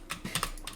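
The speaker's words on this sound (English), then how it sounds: "I just slammed my head into the keyboard" A burst of computer keyboard keys mashed all at once as a head slams down onto the keyboard, a few quick clustered clacks over under a second, close and fairly soft.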